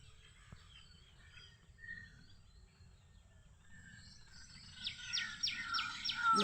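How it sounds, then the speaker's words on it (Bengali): A white-breasted waterhen calls on a rainy morning, a faint series of repeated sharp notes near the end over quiet background chirps and insects. "দেখো ডাক পাখিটা কি আওয়াজ করছে"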